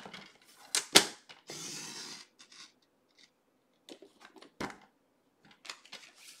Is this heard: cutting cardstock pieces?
yes